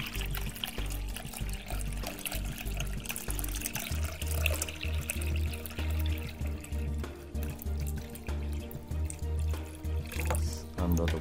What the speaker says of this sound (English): now let's give it a little water and see if it will survive